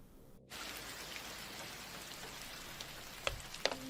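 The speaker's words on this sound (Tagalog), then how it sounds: "Malakas na ang ulan." Steady rain hisses softly across a surface, with a couple of sharper drips and taps near the end.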